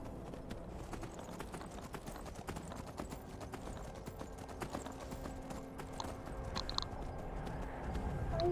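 In Skyrim VR, a horse's hooves clip-clop in a steady, quick rhythm, the footfalls close and continuous over a dense background of game noise.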